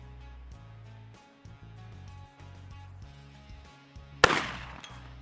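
One loud shotgun blast of 2 3/4 inch 00 buckshot fired at a target 100 yards away, a sudden sharp crack rising over a steady low hum and then decaying.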